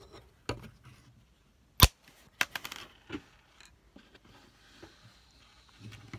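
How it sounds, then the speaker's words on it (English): A Mega Construx Halo Covenant Goblin battlesuit toy fires a small spring-loaded missile, a sharp snapping click followed by a few lighter plastic clatters, close and fairly quiet with no talking. "it shoots a missile that you pull the little trigger down here."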